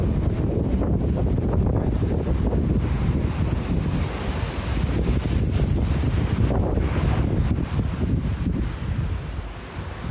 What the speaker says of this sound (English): God, it's windy.